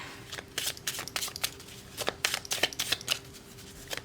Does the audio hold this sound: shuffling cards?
yes